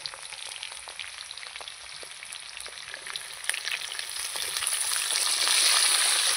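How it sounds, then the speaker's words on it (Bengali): Capsicum dropped into a pan of fried potatoes sets off a loud, steady sizzle that swells toward the end, with faint scattered ticks from stirring and no talking. "এবার এর মধ্যে ক্যাপসিকামটা দেব"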